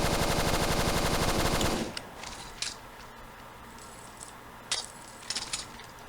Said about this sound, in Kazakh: Пулемет қойып қойдық.